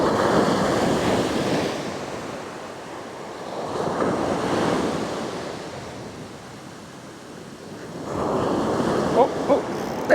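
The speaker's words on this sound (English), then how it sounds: "that water's really starting to come up here onto the bench now" Waves wash up onto a beach that rises and flattens, rolling surges swelling and fading about every four seconds, close by, with wind buffeting the microphone.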